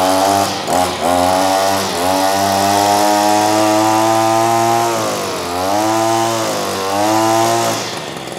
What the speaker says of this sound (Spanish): Eso sería un motor de dos tiempos,